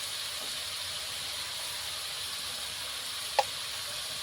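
Potatoes and pumpkin stalks fry in a pan with turmeric and salt, giving a steady, even sizzling hiss throughout, broken once by a brief clink.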